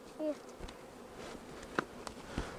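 Faint, low buzzing of many honeybees around an open hive as frames are pushed together, with a few light taps and knocks nearby.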